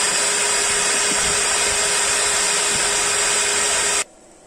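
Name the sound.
800-watt vacuum cleaner running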